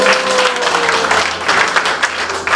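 A church congregation at a Sunday service breaks into scattered clapping, loud and close, with bursts of applause that rise and fall over a faint sustained tone and a murmur of voices.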